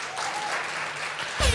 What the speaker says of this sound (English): Let's give them a special clap.